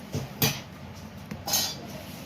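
A knife works through raw mango being cut for pickle, giving a few sharp clinks and scrapes against the blade and surface, close and fairly quiet, with short gaps between strokes.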